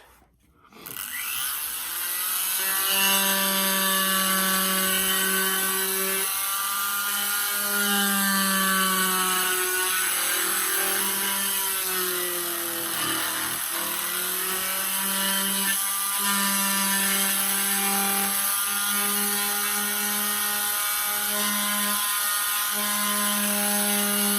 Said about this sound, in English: Let's carve up some letters.